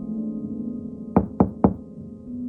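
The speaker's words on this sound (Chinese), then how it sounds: "却突然听到一声低沉的敲门声" Three low, evenly spaced knocks on a door at midnight during Lunar New Year's Eve, sharp and fairly close, over a steady background hum with no talking.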